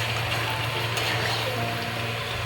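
Mutton pieces frying and being stirred in a pot with potatoes for a Bengali mutton curry, giving a steady close sizzle with a low continuous hum and a few light scraping touches, no voices.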